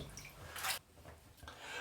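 Running water rinses a razor after a shaving pass, close and soft, with a brief gush of splashing and dripping.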